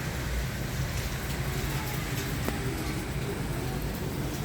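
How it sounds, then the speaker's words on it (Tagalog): Heavy monsoon rain pours steadily during a typhoon, a constant dense hiss close by that fills the whole clip, with a low rumble underneath. "Grabe yung ulan."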